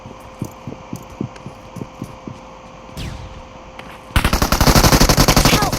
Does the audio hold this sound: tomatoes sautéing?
no